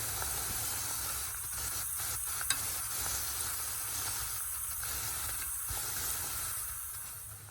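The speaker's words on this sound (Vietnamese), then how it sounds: "Bánh tai heo của mình đã chiên xong rồi nè, quá chừng nhiều luôn." Bánh tai heo dough pastries deep-fry in hot oil, giving a steady close sizzle and hiss with occasional soft stirring clinks and one small sharp tap, and no talking.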